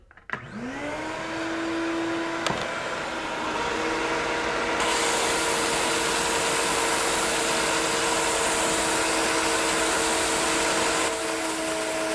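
A SKIL BB9504 belt-disc combination sander and shop vacuum run together, a steady loud droning whine with a rising motor hum at startup and a brief knock early on.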